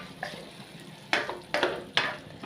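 Frying mixed vegetables in a pan for a Filipino dish are stirred, a soft sizzle under three quick scraping stirs, close and alone.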